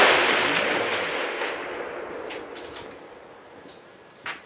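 A single loud gunshot at a silhouette shooting championship in Heinola opens the clip, its report decaying over several seconds into faint range noise, with a brief sharp click near the end.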